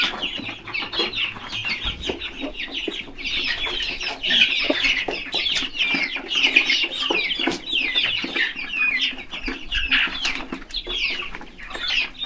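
Several chickens cluck continuously in a village coop among young birds, a busy overlapping chorus of short clucks and calls close by, with no talking.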